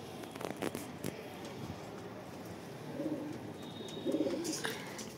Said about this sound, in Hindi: ये वाला हमारा नया कबूतर है